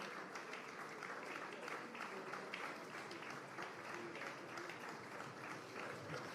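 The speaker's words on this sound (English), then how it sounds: "Let's keep the applause going" Audience applause at a public event honoring speakers, steady dense clapping heard from a distance at fairly low level, running continuously without a break.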